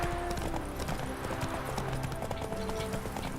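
Roach the horse cantering in The Witcher 3, a fast rhythmic clip-clop of hooves close up that runs without a break, with no talk.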